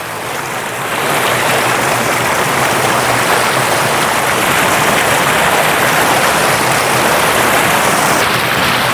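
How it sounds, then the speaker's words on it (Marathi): River water rushing forcefully over a weir: a loud, steady, close roar of turbulent flow that continues unbroken throughout. "पाणी फोर्समध्ये वाहत आहे."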